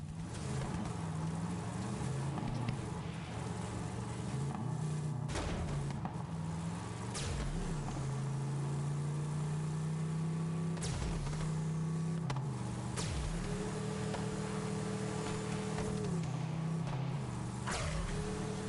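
A car engine in the video game Borderlands 3 drones continuously with shifting revs, shifting up and down as the vehicle drives, with sharp impact bumps at intervals.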